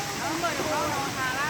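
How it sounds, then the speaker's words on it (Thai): Erawan waterfall in Kanchanaburi, a soft steady rush of falling water, faint and continuous; someone speaks over it. "น้ำตกเลยเลย โอเคน้ำตกเอราวัณนะครับ"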